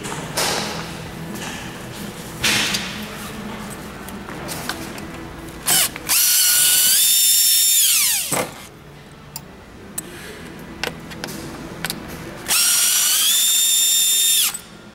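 A power screwdriver with a Phillips bit backs out screws from the massage mechanism of a Novo massage chair, giving two loud sustained whirring bursts with falling pitch as each screw comes loose, plus light clicks and handling thuds in between.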